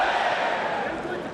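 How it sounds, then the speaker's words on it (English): Loud, steady roar of a mixed-martial-arts arena crowd cheering and shouting during a Takada versus Vovchanchyn fight, a dense continuous wall of voices with no break. "Crowd's going nuts."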